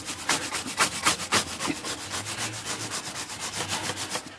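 Typewriter key tops are scrubbed with denatured alcohol in a fast, steady back-and-forth rhythm of bristly rubbing strokes, close and continuous with no voices.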